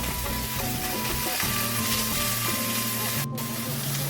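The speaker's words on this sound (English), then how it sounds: "Chicken wings in the frying pan getting cooked." Steady, dense sizzling of seasoned chicken wings frying with onions and ginger in a hot pan, continuous and close with faint stirring scrapes and no voices.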